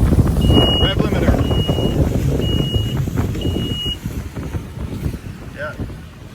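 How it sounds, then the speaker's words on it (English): A 2021 Sun Tracker Bass Buggy 16X pontoon boat's outboard engine runs at high revs under heavy wind noise and hits the rev limiter, with four repeated warning beeps and a voice talking over it. "It went right to the rev limiter and shut down."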